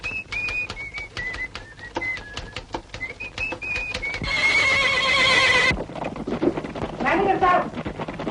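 A horse whinnies and snorts while its hooves clip-clop rhythmically and loudly, with a burst of galloping splash and other noise in the middle.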